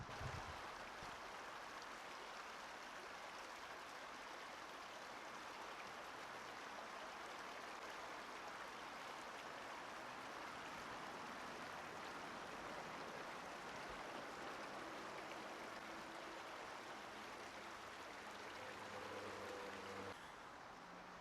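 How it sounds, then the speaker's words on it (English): A small creek near the entrance of Burnaby Village Museum flows with a soft, continuous rushing wash, steady and quiet throughout, with no voices. "we actually have a bit of a creek here"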